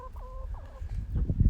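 A few high, thin chick peeps chirp close by at first, then fade under low rustling and handling noise.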